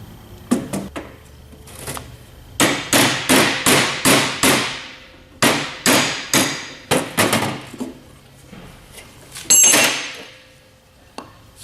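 Himalayan salt pieces glued together with silicone are struck and broken apart: a burst of loud, sharp hammer-like cracks and knocks in quick rhythmic runs, with pauses between groups and a final heavier crack, heard close with no talking.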